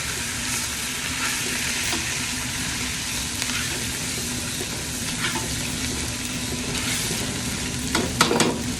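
Methi (fenugreek) seeds sizzle steadily in a hot pan for sambar while being stirred, with a constant frying hiss and a few sharper scraping clicks near the end.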